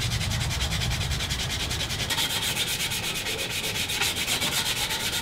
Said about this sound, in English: from, hand sanding